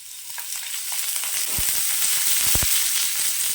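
Shallots frying in a little oil for a mushroom gravy give a steady, bright sizzle throughout, with a few sharp stirring clinks and scrapes near the middle and end; no voices.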